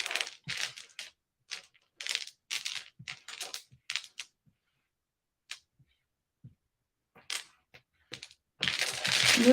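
Tarot cards being shuffled for a reading make quick, crisp riffling and tapping bursts in irregular clusters, pausing briefly and then ending in a longer, denser riffle.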